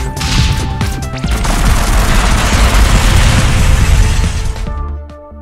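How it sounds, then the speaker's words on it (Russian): Dense, loud volley of gunfire and blasts in the Convoy video game, several seconds of rapid overlapping bangs and crashes that abruptly fade out. "Да стреляет он."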